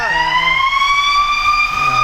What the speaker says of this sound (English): Fire truck. How about that?